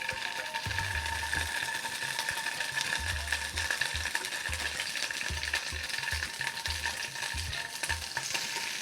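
Paneer frying in ghee in a pan crackles with a steady, close sizzle, broken by periodic low rumbling scrapes as it is stirred, with no voices.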